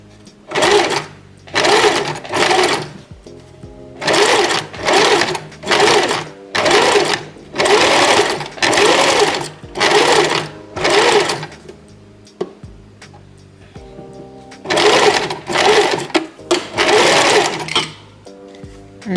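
An Empisal Expression 889 sewing machine stitches a buttonhole in loud, close, evenly paced whirring runs of about a second each, broken by brief pauses, with a longer gap before the final burst of runs.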